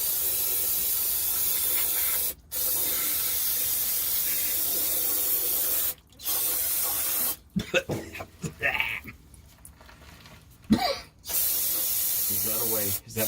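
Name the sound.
spraying cleaner during an oil change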